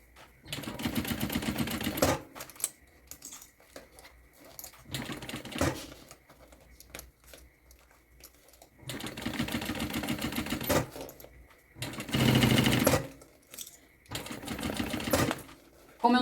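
Sewing machine running short straight stitches with a number 3 stitch length to close up a fanny pack, starting and stopping in several loud bursts with quiet pauses between.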